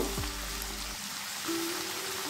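Fried chopped tomato hits a hot pan with a brief, close rain-like sizzle that carries on evenly for a couple of seconds, with no voices.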